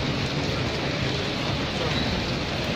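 Steady rain falls in Lahore in a dense, even patter, a continuous wash of drops hitting surfaces with no pauses and no voices.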